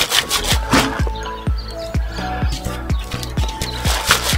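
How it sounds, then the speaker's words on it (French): Potting soil is shaken through a 5 mm garden sieve, giving a steady series of rhythmic scraping, rubbing strokes roughly every half second, close and moderately loud with no talking. "Je vais tamiser le terreau tranquillement."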